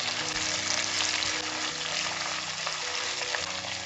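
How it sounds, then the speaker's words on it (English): A spinach and egg stew seasoned with pepper is stirred and sautéed in a pan, a dense, even sizzle with faint utensil scrapes and no voices. "Stir this together."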